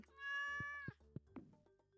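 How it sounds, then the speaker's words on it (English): A cat meows in the video game Stardew Valley, one long drawn-out meow followed by a few short mews, clear and close, with no talk over it. "Oh, there's the cat."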